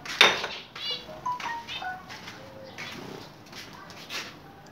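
Pigeons coo softly in short low calls, with some clinking of metal dishes nearby and faint background activity.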